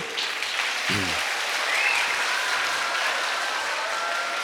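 Audience applause at a college Kargil Vijay Diwas celebration, following a speech: dense, steady clapping from a large crowd that carries at an even level for the whole stretch, with no pauses.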